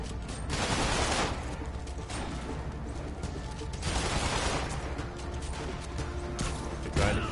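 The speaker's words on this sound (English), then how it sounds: "They're trying to shoot me, I think." Snipers shooting in Marvel's Spider-Man, heard as rattling bursts of gunfire mixed with crashing impacts, steady and moderately loud throughout, with no voices.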